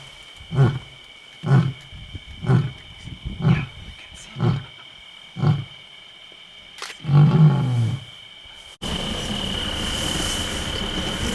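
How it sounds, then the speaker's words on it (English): Series of six evenly spaced deep lion grunts from tall grass on an African night, followed by a longer rumbling grunt, with crickets trilling steadily behind and a broadband rush of noise at the end. "we heard a lion grunt that seemed right next to us"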